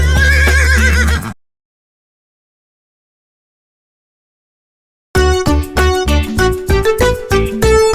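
A cartoon horse neighs loudly in a Telugu children's rhyme, then silence, followed by bright, rhythmic sung music.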